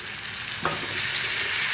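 Butter garlic prawns sizzle steadily in a pan after a splash of water is added, with a single stirring scrape partway through, close and continuous.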